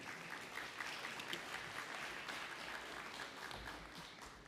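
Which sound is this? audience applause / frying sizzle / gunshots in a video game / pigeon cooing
audience applause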